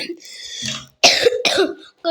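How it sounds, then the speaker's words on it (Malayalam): The video game character Franklin coughs several times in short harsh bursts, close up, with a few spoken words before the coughing. "നമ്മുടെ ഫ്രാങ്ക്ലിന് ഭയങ്കര ചുമയും എല്ലാം"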